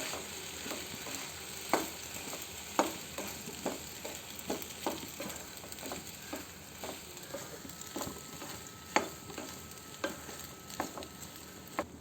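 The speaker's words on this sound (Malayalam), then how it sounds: "ഇനി നമുക്കതിലേക്ക് പാസ്ത ഇട്ട് കൊടുക്കാം. ഇനി നല്ല രീതിയിൽ ഇളക്കി യോജിപ്പിക്കാം" Pasta being stirred in a pan, a soft background sizzle broken by repeated spoon scrapes and taps at an uneven rhythm, fairly faint and without talk.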